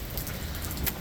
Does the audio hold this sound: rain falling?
yes